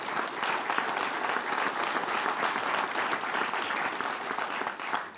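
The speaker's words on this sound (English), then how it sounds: "let's give you and your team a round of applause" Steady, dense applause from an audience at a groundbreaking ceremony, honoring a fundraising team; continuous clapping holds at an even level for several seconds without speech.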